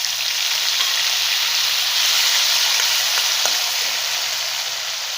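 Chopped tomatoes hit hot oil in a pan, a loud, continuous close sizzle and crackle with faint stirring scrapes.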